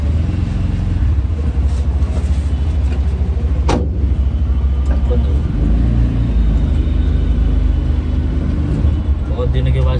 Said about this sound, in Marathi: नंतरच मग गाडी टाकतो आतमध्ये